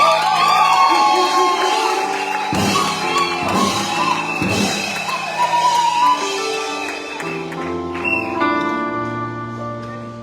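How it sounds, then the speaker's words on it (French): A wedding congregation in a church cheers and whoops loudly throughout, with excited voices and sustained tonal sounds mixed in the lively crowd noise. "Applaudissons pour le Seigneur."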